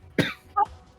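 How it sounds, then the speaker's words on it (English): Two quick coughs from one person, the first sharp and harsh, the second shorter and more throaty, close to the microphone in an otherwise quiet room. "You're gonna hear coughing every once in a while."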